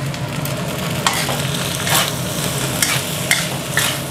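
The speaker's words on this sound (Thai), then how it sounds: "ผัดให้ผักต่างๆสลดสุกลงไปนะครับ" Chinese kale, onion and tomato sizzle as they are stir-fried in a pan for Thai fried rice, with a constant close frying hiss and occasional scrapes and tosses of the spatula, with no talking.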